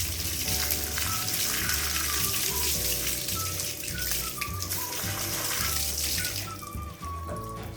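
Water sprays steadily and loudly onto a rotting cactus, a continuous hissing splash with faint tonal hums underneath, no voices.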